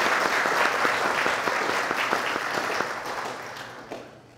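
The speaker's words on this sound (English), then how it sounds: "let's give him a little round of applause." An audience at a talk on Christian culture breaks into steady, fairly loud applause that gradually thins out and fades over a few seconds.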